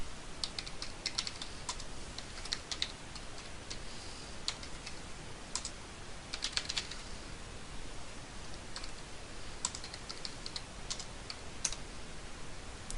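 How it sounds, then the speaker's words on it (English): Router configuration commands typed on a computer keyboard, irregular bursts of quiet key clicks with short pauses between runs, close and alone over faint background hiss. "you can still keep typing when those messages pop up and break your commands"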